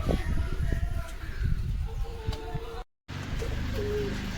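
Pigeons at a loft give soft low coos among light background noise, with a brief cut-out partway through and faint voices nearby.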